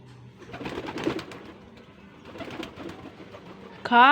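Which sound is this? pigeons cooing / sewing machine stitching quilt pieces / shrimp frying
pigeons cooing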